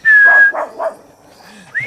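A Jack Russell terrier lets out a few sharp, close barks after a high whistle-like tone, then a faint whimper and another short yelp.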